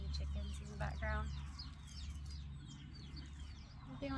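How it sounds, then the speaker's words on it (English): Baby chickens peep and cluck faintly in a small coop set inside a larger coop, soft chirps scattered in the background beneath a steady low hum and nearby talk. "Hear the baby chickens in the background."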